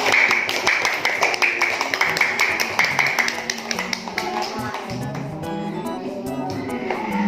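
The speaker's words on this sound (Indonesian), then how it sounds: "Beri tepuk tangan." A mathematics class in an Indonesian school claps for a correct answer, a steady run of quick, fairly faint hand taps and claps in a roomy space, with some voices underneath.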